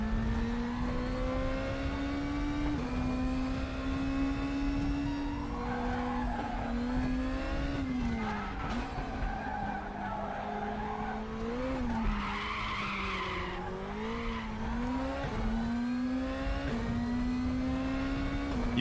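An Audi DTM race car in the RaceRoom racing game gives a throaty engine note that rises and falls steadily through gear shifts, with tire squeal over the top, close and continuous.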